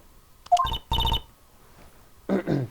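A telephone rings in the Phoenix Wright: Justice for All video game, with short electronic ringing bursts repeating with pauses between them; no one speaks.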